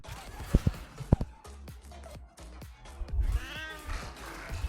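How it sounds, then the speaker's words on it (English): A cat meowing in the video game Warframe: a few short close meows spread over a few seconds with footstep-like clicks between them, ending in a drawn-out higher meow. "Meow."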